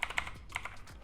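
Quick bursts of keyboard typing as a web address is entered on a computer, several close clicks in two short runs, fairly clear with no speech.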